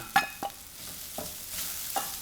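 Hot pepper sizzles softly in a frying pan, with a few sharp clinks of a utensil stirring against the metal at irregular moments.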